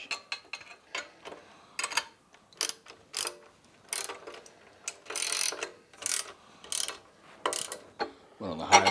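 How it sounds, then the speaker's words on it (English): Metal ratchet clicks from a 7/16 inch socket and wrench tightening a nut and washer while mounting a motorcycle accessory, coming in short uneven bursts of close, crisp clicking with pauses between. "we're just gonna use a 7/16 inch socket and a 7/16 inch wrench"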